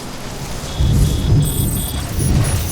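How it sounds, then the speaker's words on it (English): Rain patters steadily in the video game Death Stranding while deep thunder rolls in low and loud, swelling twice over a few seconds, with faint high electronic tones above. "Oh god, it's starting to rain as well."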